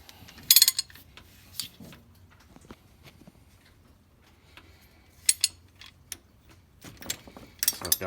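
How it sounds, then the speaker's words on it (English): A ratchet fitted with an 11/16 socket works the cylinder head bolts loose on a Ford F150 engine, giving scattered metallic clicks and rattles with a few sharper clusters among quieter stretches. Nobody speaks. "For these head bolts, I've got an 11/16 socket."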